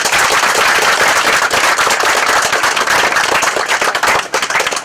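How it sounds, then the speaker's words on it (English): Loud, dense applause from a crowd at an outdoor Memorial Day ceremony in Lawrence, sustained and steady throughout with sharp overlapping claps. "So I think they do deserve yet another round of applause."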